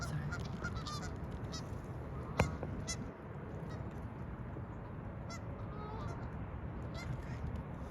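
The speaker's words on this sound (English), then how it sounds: "Oh, we got us a bird fight going on." Geese fighting, their honks loud and repeated over a constant outdoor background rumble, with one sharp close burst partway through.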